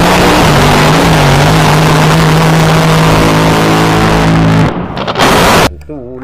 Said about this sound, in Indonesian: kita mendapatkan speedboat